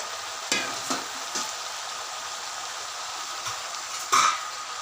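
Ivy gourd pieces fry in a pan while a spoon stirs them, several scraping, clattering strokes spaced over a low steady sizzle, close and fairly loud.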